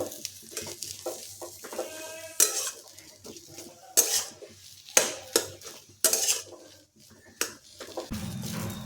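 Metal spoon scraping and clinking in a kadhai while a banana-flower chop filling with spices is stirred, a run of sharp irregular clatters and scrapes up close, with a low hum near the end.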